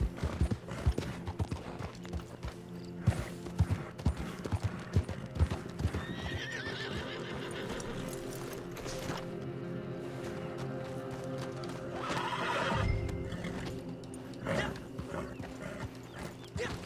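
Horses in the Red Dead Online video game clip-clop with a steady beat of hooves and neigh a few times, with a dog barking briefly among the hooves.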